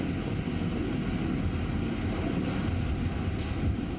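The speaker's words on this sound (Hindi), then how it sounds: "समंदर की लहरें किनारे से टकरा रही हैं।" Arabian Sea waves wash against the shore ahead of Cyclone Biparjoy as a steady, dense roar of surf mixed with strong wind buffeting the microphone, with no voices.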